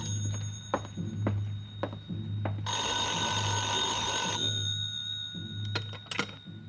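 A telephone rings once in a long steady electronic burst, loud and close, set against a low hum, with isolated knocks and clicks before and after.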